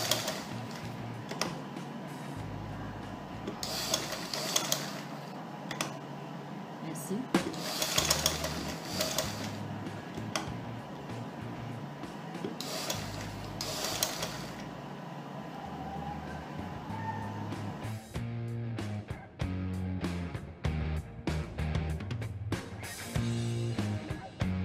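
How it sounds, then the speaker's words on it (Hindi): A sewing machine runs in repeated stitching bursts for a long stretch, its steady whirring rattle starting and stopping as seams are sewn slowly, with a faster, choppier run of stitching near the end. "आहिस्ता आहिस्ता सिलाई लगाएं।"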